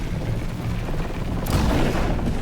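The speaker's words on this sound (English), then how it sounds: "the rifle shot is a little, or the explosion is a little loud." Explosion in the survival game The Last Caretaker, a loud, dense rumbling boom that fills the whole stretch, with a sharp blast flaring up about halfway through.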